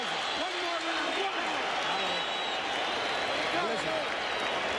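A boxing arena crowd roars and cheers during a heavyweight fight, a loud continuous wash of noise with a commentator's voice rising over it.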